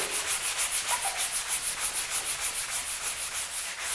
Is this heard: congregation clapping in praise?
no